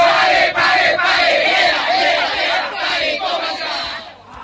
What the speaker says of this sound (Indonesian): Seperti yel-yel pagi untuk menyemangati anggota menyambut hari yang baru.